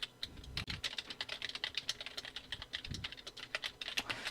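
Rapid, continuous clatter of a computer keyboard as text is typed, crisp individual keystrokes packed closely together at a close distance, with no talking.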